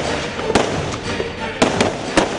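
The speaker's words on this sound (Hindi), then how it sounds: "अंधाधुंध गोलियां क्यों चला रहे हैं ये जवान?" Soldiers firing guns out on a rugged border hillside: a handful of sharp, distant cracks at irregular spacing over steady background hiss, with one pair close together.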